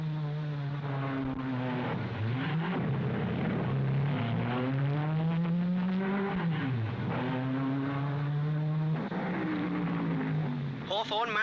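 Formula 1 race cars of 1955, including a Vanwall and a Ferrari, race at the Monaco Grand Prix, engines rising and falling in steady pitch sweeps as they pass, loud and continuous throughout.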